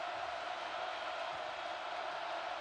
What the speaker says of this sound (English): This crowd, though, is dialed in.